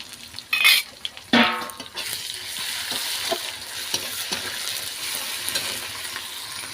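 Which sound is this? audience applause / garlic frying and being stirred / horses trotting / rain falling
garlic frying and being stirred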